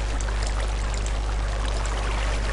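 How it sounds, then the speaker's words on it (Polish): Water poured in Minecraft, a steady, even rushing stream at constant loudness with no talk. "Teraz musimy zrobić, wylać wodę."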